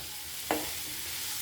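Jackfruit seeds and curry leaves being stirred in hot oil in a pan: one quick scrape of the spoon, then a soft steady sizzle continuing alone.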